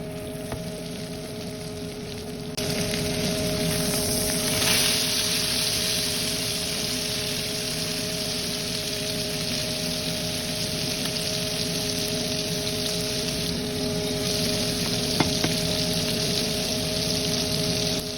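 Food frying in melted butter in a pan, a steady close sizzle with a continuous hiss that holds for a long stretch without speech.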